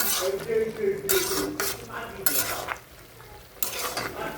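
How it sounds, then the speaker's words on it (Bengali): Tomatoes stirred in a cooking pot, with a soft sizzle and irregular scraping and clinking of the utensil against the pot. Bursts of stirring come in several clusters at close range, with a low background hum between them. "টমেটোগুলো দিয়ে দিলাম দিয়ে এখন ভালোভাবে একটু নাড়াচাড়া দিয়ে দিচ্ছি"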